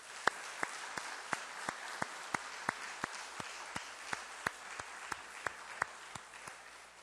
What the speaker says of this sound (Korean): 우리 이분들을 뜨겁게 한번 박수로 이렇게 맞이했으면 좋겠습니다